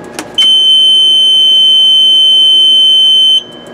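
After a brief click, a door switch alarm on a pump panel sounds a loud, steady high-pitched tone continuously for about three seconds, then cuts off abruptly.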